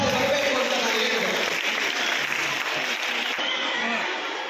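Audience applause at an outdoor constitution-awareness rally welcome in Vijayapura, a dense steady clatter of many hands with crowd noise, fairly loud throughout and easing slightly near the end.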